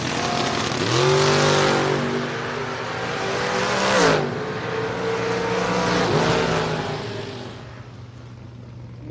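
Ford Mustang drag car launching hard at a drag strip, engine screaming up through rising revs with a gear change near four seconds, loud and close, then fading as it pulls away down the track.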